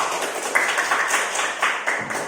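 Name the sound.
audience clapping for a student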